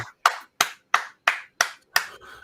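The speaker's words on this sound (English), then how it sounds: "the applause is for you guys" Seven sharp, evenly spaced hand claps, close and clear against silence, with the slow, steady rhythm of a single person clapping.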